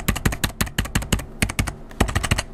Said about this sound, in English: So that should pick up the audio of the keys, and let me show you how they sound.